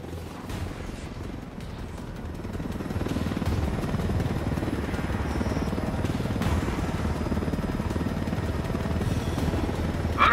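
Helicopter flying in the video game Ghost Recon Wildlands, a steady rotor drone and engine rumble that holds throughout and grows a little louder, with no talking.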